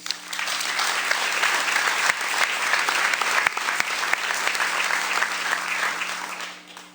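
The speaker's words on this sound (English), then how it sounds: "One more big round of applause for the boys track dream team." Crowd at a Spring Dream Team sports awards event applauds the boys track dream team, a loud, dense, sustained wash of clapping for about seven seconds that fades at the end, with a steady background hum.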